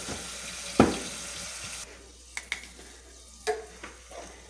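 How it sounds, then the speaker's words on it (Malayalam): Masala sautés in a pan for a sardine curry. A soft sizzle is broken by scraping stirs and sharp clanks of a spoon against metal, the sizzle dropping away partway as knocks continue. "നമുക്കിത് ശകലം കൂടെ വഴരണം"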